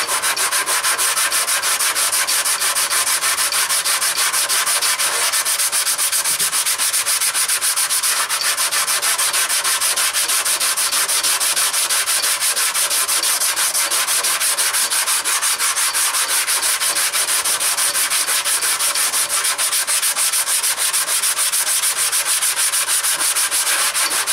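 Fiberglass and gel coat body repair on the valance of a 1977 Camaro Z28 is sanded to feather an edge, making a loud, continuous scratchy rubbing that holds steady for over twenty seconds with no voices.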